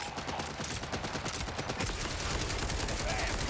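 Rapid, continuous gunfire from a fast-firing weapon in the video game Borderlands 4, a dense, unbroken stream of shots played loud and close throughout, with no pause in the firing.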